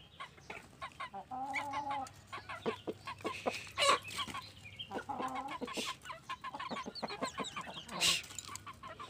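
Several chickens cluck and squawk close by in irregular bursts, with a few louder calls cutting through the busy, continuous chatter.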